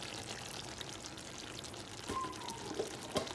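Granulated sugar poured into a pot of simmering kalderetang, a soft, steady sandy trickle lasting a few seconds over a faint kitchen background, with a brief clink near the end.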